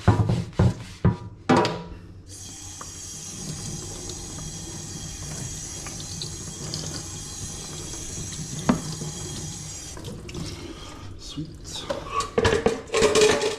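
Dishes and a cutting board are washed in a kitchen sink after a salmon and roast potato dinner: a running tap, clattering pans and cutlery, and scrubbing, with a brief spoken word.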